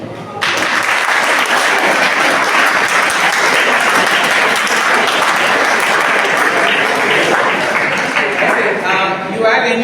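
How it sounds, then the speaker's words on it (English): An audience at a personality development and life skills training class breaks into loud, sustained applause, dense clapping that begins abruptly and fills the whole stretch before easing slightly at the end. "a big round of applause"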